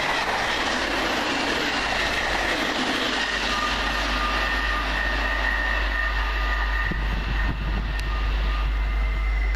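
A Class 365 electric passenger train bound for King's Lynn passes northbound at Alexandra Palace, with a loud steady rumble, clickety-clack of wheels over rail joints and a faint high wheel squeal, close and continuous.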